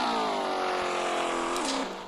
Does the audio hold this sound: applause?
no